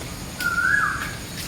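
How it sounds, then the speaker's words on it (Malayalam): A single clear bird whistle rises and sustains briefly over quiet outdoor background noise, close and distinct. "പലയിനം പക്ഷികളുടെ ശബ്ദങ്ങൾ കേട്ടുകൊണ്ട് നമുക്ക്"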